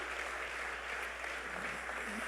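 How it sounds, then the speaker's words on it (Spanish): Church congregation applauding during a worship retreat in New York City, a steady wash of many hands clapping at moderate level, fairly distant and diffuse, with no clear voices on top. "Dale un aplauso a la gloria del Señor"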